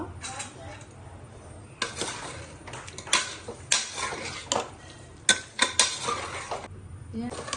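Mutton and mint being stirred in a metal cooking pot, sharp clanks and scrapes of a spoon against the pot in irregular bursts, close and fairly loud, with faint talk at times.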